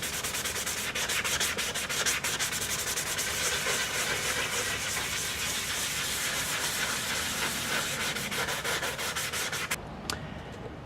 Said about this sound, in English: As I'm sanding along here, I can see so clearly, especially now that I'm hand sanding